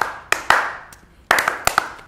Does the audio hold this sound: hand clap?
yes